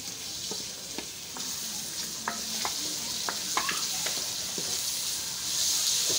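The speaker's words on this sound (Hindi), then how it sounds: "मतलब फ्राई करेंगे टमाटर को और मसाले को अच्छी तरह" Tomatoes with salt, chili and turmeric stir-fried in a pan for a palak dish: a steady hiss of sizzling with scattered spatula scrapes and clicks throughout.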